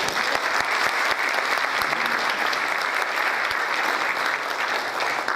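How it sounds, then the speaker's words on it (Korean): An audience in a lecture hall breaks into steady, sustained applause, dense clapping that fills the room evenly from start to finish. "박수 한번 내주시죠"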